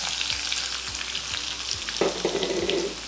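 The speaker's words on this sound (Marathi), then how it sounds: "आपण 2 आकाराचे कांदे चिरले होते ते घालूया त्याच्यात" Chopped onions go into hot oil already crackling with cumin, mustard seeds and curry leaves, frying with a steady loud sizzle and scraping stirs, while a spatula clacks against the pan a few times.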